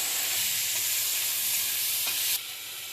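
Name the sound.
small shrimp frying in hot oil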